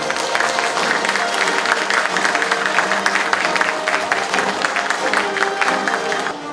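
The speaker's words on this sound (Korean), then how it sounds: "여러분들께서 큰 박수로 이분들을 맞이해 주십시오" Crowd at a Korean association branch launch ceremony in Gwangju applauding to welcome guests, dense steady clapping filling the hall at even volume throughout.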